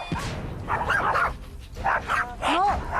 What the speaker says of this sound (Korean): 줄을 끌며 달려가서는 친구들을 향해 짖어대는